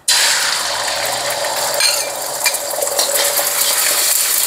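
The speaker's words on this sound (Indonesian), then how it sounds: "Kita orak-arik dulu telurnya." Eggs scramble in a hot wok for Hong Kong-style beef fried rice, giving a loud, dense sizzle with scraping and rattling from stirring throughout.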